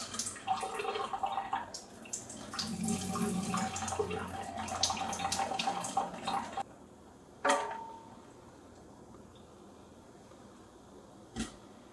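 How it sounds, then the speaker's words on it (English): Water drains out of an upturned houseplant pot whose bottom drainage hole is clogged, a close trickling and splashing that runs for several seconds, then stops, leaving a few isolated drips and knocks. "I have to tip the whole thing upside down and let the water drain out the top."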